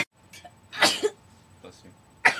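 A woman sneezes sharply and close, once loudly and then again at the end, with smaller breathy sounds in between.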